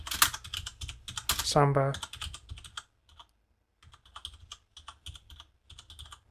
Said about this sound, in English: To install Samba, we simply type sudo apt-get install